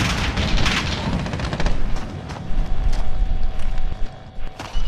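Gunfire and booming blasts in the video game Squad, a dense rumbling barrage with scattered sharp cracks, continuous and loud, no talk over it.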